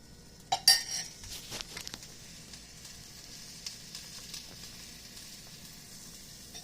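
A spoon stirs warm milk for homemade hot chocolate: a few sharp clinks against the cup early on, then faint scattered taps over a quiet background hiss.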